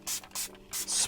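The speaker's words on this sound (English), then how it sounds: "Okay, spray, spray, spray." A spray bottle sprays onto a screen protector on a Mustang Mach-E's car screen, giving four short, close hissing bursts in quick succession with no talk.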